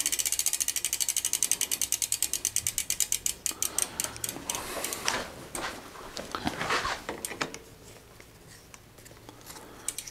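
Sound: 1987 Mongoose mountain bike pedaled backwards, freewheel ratcheting

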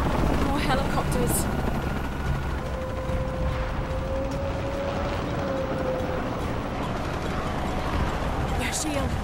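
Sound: helicopters flying in video game Shadow of the Tomb Raider

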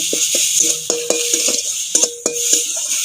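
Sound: stirring pointed gourd mash with mustard paste in a pan

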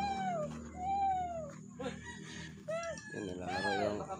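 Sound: chicken clucking

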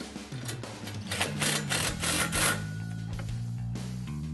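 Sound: tightening hardware on golf cart cargo box bracket

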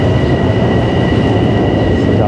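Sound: Long Island Railroad train passing

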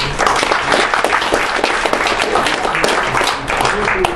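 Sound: audience applause at a forum

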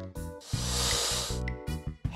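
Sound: snake hissing

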